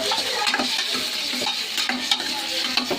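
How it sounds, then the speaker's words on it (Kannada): Tomatoes frying in a couple of spoons of oil on a stove, a continuous close hiss of sizzling with scraping stirs, no talk. "ನೀವು ಆಯಿಲಲ್ಲಿ ನೀಟಾಗಿ ಫ್ರೈ ಮಾಡ್ಕೋಬೇಕು"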